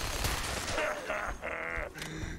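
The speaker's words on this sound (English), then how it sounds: "I'm gonna shoot Strong." Gunfire in the video game Fallout 4 in a modded fight against the Brotherhood, a few sharp bursts of shots mixed with groaning game effects, close and continuous over roughly two seconds.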